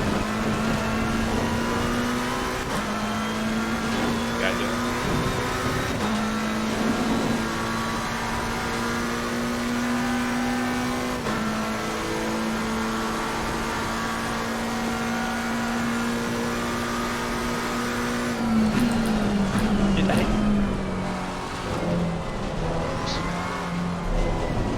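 A GTR race car drives a wet Spa circuit in a racing game, its engine a loud, close, sustained drone that rises and falls in pitch through gear changes, with no talk.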